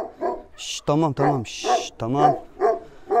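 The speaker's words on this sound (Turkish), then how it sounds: "köpek bize saldırabilir" A dog barks repeatedly at close range in an abandoned village near a church, several loud sharp barks spread through the clip while people speak nearby.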